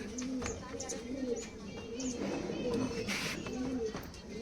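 Desi line pigeons coo steadily in a loft, repeated soft throaty calls close by, with voices talking over them.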